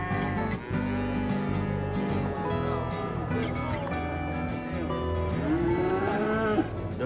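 A cow moos repeatedly at a livestock market in Albania, its long drawn-out calls rising and falling over a busy, crowded background.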